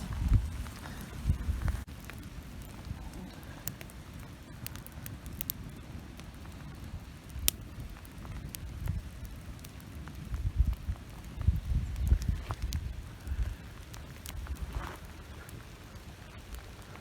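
Campfire burning in the rain in a forest, soft steady crackle and patter of raindrops with scattered sharp pops and snaps, fairly faint, no talk.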